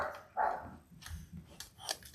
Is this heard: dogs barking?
yes